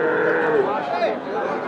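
A Deshi-Sahiwal cross bull at a Panchagarh cattle market gives one long, close, drawn-out moo, with faint voices in the background.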